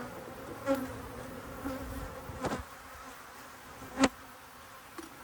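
Honey bees buzz steadily around an opened long hive during a queenless check, a continuous close drone with a few sharp clicks and knocks of equipment.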